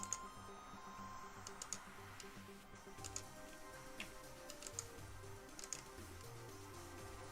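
Computer keyboard typing during a live crypto and stock analysis stream: scattered, light clicking keystrokes, faint and irregular, over a low steady background hum.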